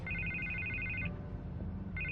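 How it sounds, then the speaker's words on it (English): A telephone rings in the Batman Telltale Series video game, a bright electronic ring that sounds for about a second, pauses, then starts again over a low, steady background hum. "I can't get the phone to stop ringing."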